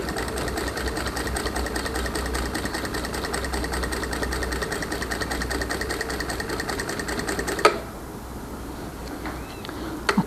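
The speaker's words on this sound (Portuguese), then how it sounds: "Aqui a gente vai prender esse lado e vamos costurar." A sewing machine runs steadily, stitching synthetic fabric with a slightly longer stitch while making a small zippered cosmetic pouch, a continuous near whir that stops abruptly near the end, followed by a few faint clicks.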